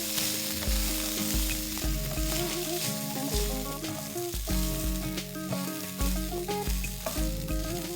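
White rice and salt are stirred around a hot pan for tricolor pulao, giving a steady, close sizzle with soft scraping, set against continuous tonal background music.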